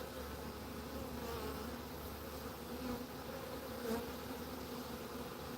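A swarm of bees hums as a dense, steady buzz in Orem, Utah, continuous and fairly faint, with no voices over it.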